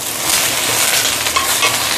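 Food fries in a pan before luffa goes in, giving a steady, close sizzle with light stirring scrapes throughout and no speech.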